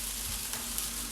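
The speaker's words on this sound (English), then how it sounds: "I'm just going to fry them off." Gnocchi for a pork loin dish fry in a pan, a continuous even sizzle close by with no voices over it.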